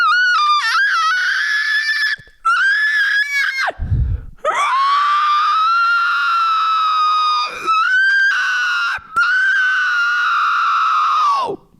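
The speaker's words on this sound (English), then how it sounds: "that's what I call a whistle register fry" A voice produces long, piercing, whistle-like screams with a raspy fry edge, several sustained bursts separated by brief breaths and a low grunt.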